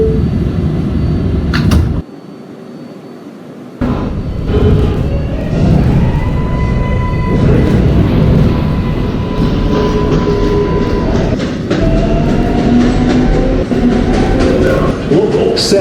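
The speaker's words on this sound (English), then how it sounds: "This is a Manhattan-bound 7 local train." A Roblox subway 7 local train bound for Manhattan closes its doors with a short break in the sound, then rumbles and whines as it pulls away, a loud steady hum with rising motor tones.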